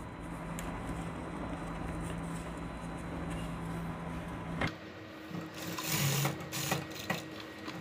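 A sewing machine stitches the folded waistband belt onto a pair of trousers, running steadily and fairly close throughout, with a louder, denser burst of stitching in the final few seconds.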